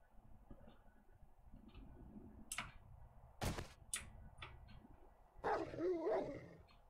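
A dog in the zombie survival video game 7 Days To Die, giving a few sharp barks with gaps between them, followed by a louder growling, snarling burst near the end over quiet game ambience.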